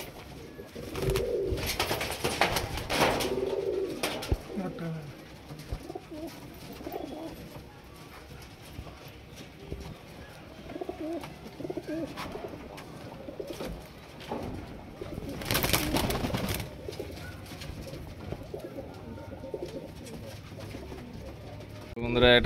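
Old-generation high flyer pigeons coo in low, throaty bursts amid rustling and handling noise, with a voice talking intermittently nearby.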